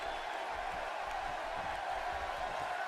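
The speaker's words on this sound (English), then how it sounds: "this crowd are causing some serious noise here" Steady, dense arena crowd roar from a WWE 2K18 wrestling match, a constant loud wash of voices with no clear breaks.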